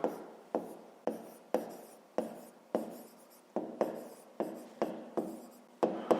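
Pen or chalk writing during a fifth-grade maths lesson, a rapid series of about a dozen short, sharp strokes in an even rhythm, close and fairly quiet, no talking.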